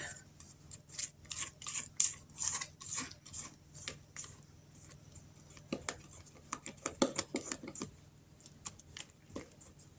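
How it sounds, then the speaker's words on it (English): Cranberry bread batter is stirred by hand in a bowl, with quiet, irregular scraping and tapping of a utensil against the sides, close and soft, then a few heavier knocks toward the end. "Now we'll give it a little mix by hand."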